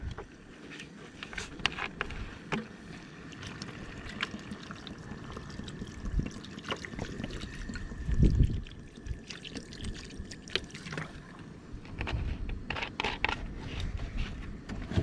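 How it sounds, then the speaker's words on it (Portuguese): Water poured into a pot for boiling freshly caught lobster at an outdoor cooking spot, a steady splashing pour with a brief louder gush midway, heard close over background noise. "Jogar água."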